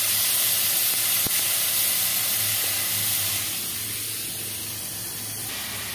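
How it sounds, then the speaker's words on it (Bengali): Prawns frying in a pan give a loud, hissing sizzle that stays strong at first, then eases slightly and settles into a steadier, softer spray of hiss, with a single sharp tick early on. "এবার চিংড়ি মাছটা ভাজতে হবে"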